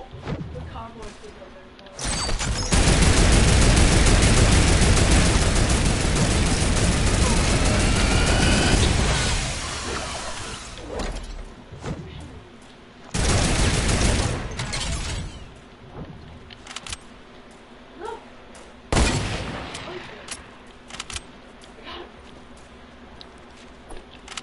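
Heavy turret gunfire in a video game during a sleepover session, a loud sustained burst followed by shorter bursts and scattered impacts, with a voice talking over it.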